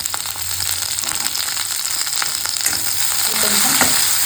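Curry leaves, onion and three green chillies fry in hot oil, a close, steady sizzle with occasional scraping stirs of a spoon.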